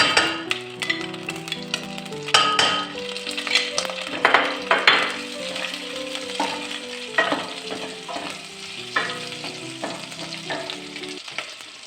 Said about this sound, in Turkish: İç yağı eridi güzelce. Tereyağını da atıyorum.